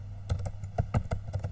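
Quick keystrokes clatter on a computer keyboard, about a dozen close, crisp clicks in an uneven rhythm over a low steady hum.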